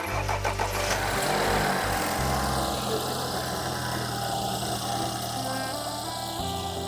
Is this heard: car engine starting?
yes